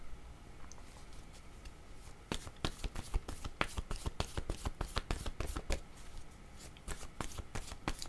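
Tarot cards shuffled by hand in quick, crisp riffles and taps, a burst of close, dry slaps after a quiet start, with no talking.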